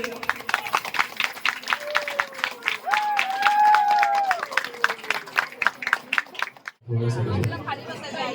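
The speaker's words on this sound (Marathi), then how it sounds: "जोरदार टाळ्या झाल्या पाहिजेत" An audience at a village haldi-kunku celebration claps in a brisk, dense run of applause. Voices talk and shout over it before the clapping cuts off and a nearer voice begins speaking.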